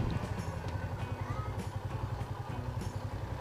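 An Angkas motorcycle taxi rides along a torn-up street under roadwork on Cattleya Street, headed from Cubao toward Antipolo. The engine runs steadily and close with a rough, pulsing drone, and faint clatter is mixed in.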